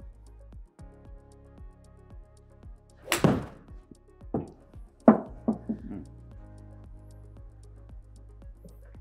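A golf iron strikes a ball on a practice range with a single sharp, close crack, and a few softer knocks and voices follow.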